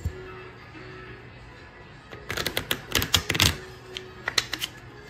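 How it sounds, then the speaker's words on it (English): Deck of playing cards being shuffled at a coin pusher poker game, a close, quick flurry of rapid riffling clicks lasting about a second, with a few scattered taps after. "So I'm gonna like shuffle these up good."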